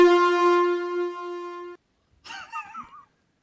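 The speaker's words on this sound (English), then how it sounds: "For some reason, I love the air horn." An air horn blares loud and sustained for nearly two seconds as a single steady tone, then cuts off; after a short pause a brief burst of wavering, muffled sound follows.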